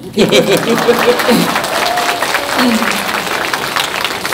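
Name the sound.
audience applause at a political rally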